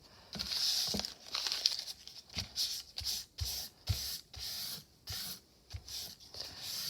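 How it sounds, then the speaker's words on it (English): Paint is rubbed off the pages of a children's book being made into a journal. Soft, quiet papery rubbing strokes repeat in an uneven rhythm, close up and with no voices. "Just gonna kind of rub some of this paint off."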